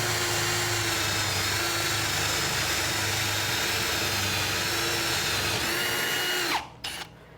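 A power drill with a laser guide boring into a Windsor chair leg in a woodworking shop gives a steady high whine that holds for several seconds, then stops abruptly with a short rattle.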